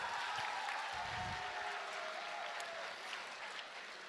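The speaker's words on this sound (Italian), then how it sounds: "un applauso!" Audience applause at a live DJ show for Il piacere della legalità, Vicino/lontano 2023, a steady dense wash of clapping held for about four seconds at moderate distance, with no voices over it.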